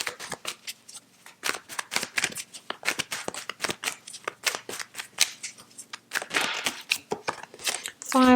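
Tarot cards shuffled by hand in a steady run of crisp riffling and flicking bursts, close and moderately loud, with a brief louder flurry near the end.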